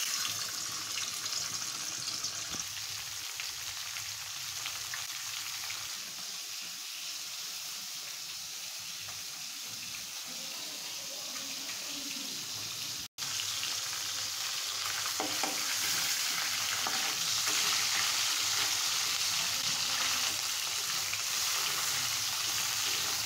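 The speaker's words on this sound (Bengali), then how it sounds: "চলো এবার আমরা মাছটা ভেজে নিই।" Rohu fish fries in a pan with a loud, steady hiss of hot oil that runs throughout, broken once by a very brief dropout before the sizzle resumes slightly louder.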